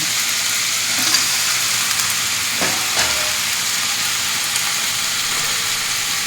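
Potato, beans, carrot and drumstick pieces sauté with salt in a pan for Tirunelveli-style sothi curry, giving a steady close sizzle with a few light scrapes of stirring.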